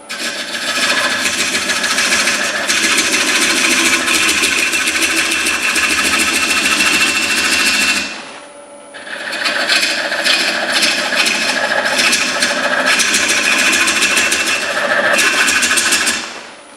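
A 12-inch red oak bowl turns on a wood lathe as a gouge cuts it, producing a loud, close, continuous scraping roar that breaks off briefly midway and then resumes at the same strength.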